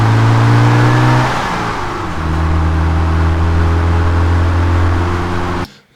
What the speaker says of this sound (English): If we listen to just the engine sound.